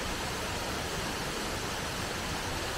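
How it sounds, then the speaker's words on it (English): Spoon Creek Falls near Lake Wynoochie pours with a steady, dense rushing hiss, close and constant with no breaks and no voices over it. "this is Spoon Creek Falls"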